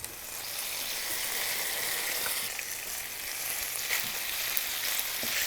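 Green beans fry in oil with garlic in a pan, giving a steady, even sizzle that carries on alone and unbroken throughout.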